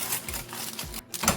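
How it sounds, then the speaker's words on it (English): Scissors snip through baking paper to trim its sides, giving a few crisp, close cuts in an irregular rhythm with a short pause, and no talk. "I am trimming the sides of the paper"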